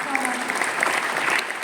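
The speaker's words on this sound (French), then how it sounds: "Merci beaucoup, on peut l'applaudir." Audience applause at the Paris Games Week 2025 press conference, a brief burst of dense clapping from an indoor crowd with a voice over it.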